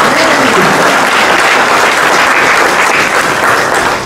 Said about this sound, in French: Maintenant, voilà, on peut l'applaudir, c'est un miracle.